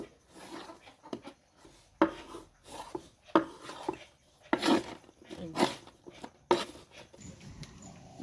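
A knife slices thin strips of small fish on a board in a home kitchen. About eight sharp, irregular cuts sound close and fairly faint, each followed by soft rubbing and scraping, with no speech.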